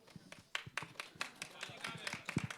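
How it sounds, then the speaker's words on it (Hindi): Distinct individual handclaps from an audience at a film trailer launch event on stage, fairly faint and uneven, with people talking during them. "तालियां बजते रहनी चाहिए जब तक स्टेज पे आती हैं"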